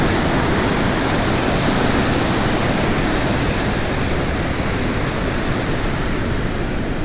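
Water rushes over a bicycle trail crossing in a loud, steady, unbroken roar, close by and with no voices.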